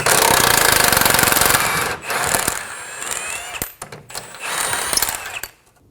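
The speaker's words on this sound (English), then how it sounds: "Use a 22mm socket to remove the bolt." An impact or ratchet tool spins off a lower control arm bolt with a 22mm socket on a 2008-2015 Scion xB, a loud continuous mechanical rattle that cuts out and resumes in bursts, with sharp clanks near the end.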